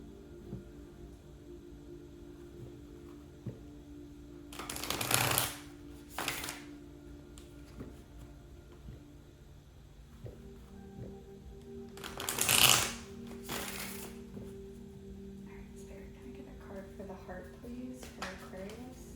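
Tarot cards are shuffled in two bursts, each a brisk riffle of rapid papery flicks, close and clear, with quiet pauses and faint room hum between them.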